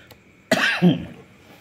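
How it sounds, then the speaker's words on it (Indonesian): One abrupt, throaty cough bursts out close by, trailing into a rough clearing of the throat, then quiet. "agak batuk"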